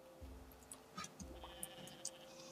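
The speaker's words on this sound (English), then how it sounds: "We have a goat that needs to be milked." A goat bleats a few short times in the farming video game Roots of Pacha, quiet calls over a soft background music bed.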